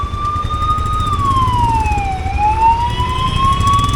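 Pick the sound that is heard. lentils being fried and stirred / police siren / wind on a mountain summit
police siren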